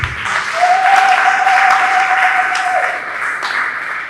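Loud, sustained applause from a church congregation at a Christian service, a dense wash of clapping lasting several seconds with a brief tonal hum running through it.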